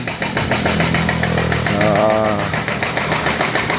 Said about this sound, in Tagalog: inaayos lang yung daan. Binubutasan naman sa gitna.